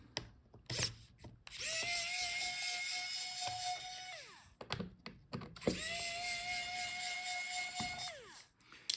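Small screws being undone from the cooling fans of an MSI Bravo 15 laptop during a teardown, with two sustained whirring screwdriver runs, each a few seconds long, broken by short clicks and handling noises.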